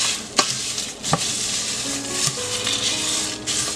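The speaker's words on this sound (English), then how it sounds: "I am roasting these spices on low stove heat." Spices dry-roast in a pan on low heat with a steady bright hiss, and a spatula scrapes and knocks the pan a few times at close range.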